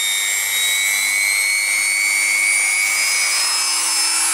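DEPSTECH DM-200A rotary tool running steadily and being wound up to a higher speed, a loud high-pitched motor whine that rises gradually in pitch, heard alone.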